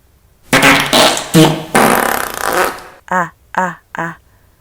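A loud, close cartoonish fart sounds off as a long sputtering blast, followed by three short, punchy toots in quick succession, in an animated fantasy series about cultivation training.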